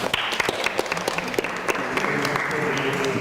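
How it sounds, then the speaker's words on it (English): Audience applause at a school principal forum, a dense burst of many hands clapping that fills the space, with brief voices mixed in. "I'm going to give him a round of applause"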